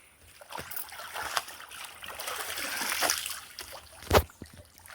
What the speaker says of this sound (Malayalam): നമ്മുടെ അമ്മ അവിടെ ഇരുന്ന് അലക്കുവാണ്.